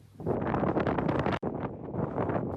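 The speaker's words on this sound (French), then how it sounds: "un vent glacé souffle en permanence" An icy wind blows across the desolate, treeless abandoned whaling station of Port-Jeanne d'Arc in the Kerguelen Islands. It roars steadily into the microphone as loud, continuous buffeting, with one very brief dropout.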